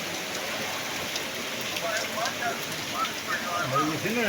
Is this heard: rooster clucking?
no